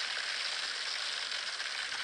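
A hailstorm sound effect from an LED strip light app plays as a steady, even wash of high, hissy pattering noise with no talking.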